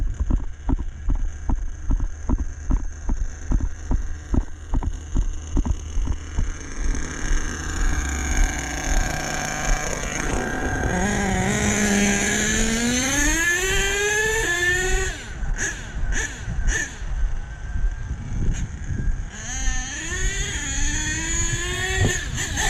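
A Kyosho RC car being broken in while driving and jumping, with a rapid ticking run that swells into a whining, rising and falling electric motor pitch, close and fairly loud, then choppy bursts, with no talk.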